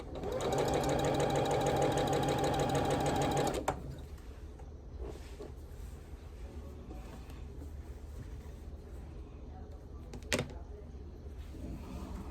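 A sewing machine stitching a row of a Blue Ribbon Weave quilt, a loud, fast, even mechanical chatter for about four seconds that stops abruptly, leaving quiet room noise and a single brief click.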